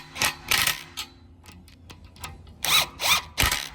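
Power tool driving bolts into a rack on a CFMOTO UFORCE 1000 side-by-side, in several short whirring bursts with brief pauses and lighter clicks between them, fairly close.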